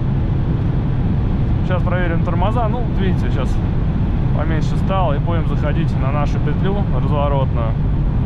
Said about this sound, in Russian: шум ветра, не двигателя